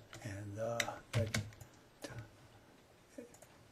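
Keys clicking on a computer keyboard as a measurement is typed into SketchUp drafting software, a few quick taps mixed with a voice talking over them.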